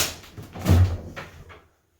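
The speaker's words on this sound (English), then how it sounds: "And I can open the door for you." Closet door in the Fuller Brush House museum in Yarmouth, Nova Scotia, opening with a single dull wooden knock and creak, followed by a fainter rattle before quiet.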